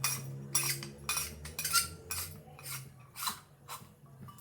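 A metal murukku press plate clinks and rattles as it is handled, with a series of light metallic taps and scrapes close by in a quiet kitchen.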